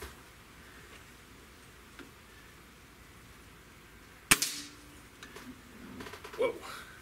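A single sharp crack from a Gamo air rifle fired outdoors, close and loud against quiet surroundings, followed by faint rustling and small knocks.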